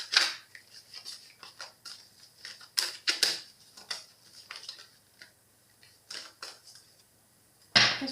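A deck of tarot cards is cut and shuffled, giving a series of soft, quick papery snaps and riffles at irregular intervals, close and fairly quiet, with a sharper burst near the end and no speech.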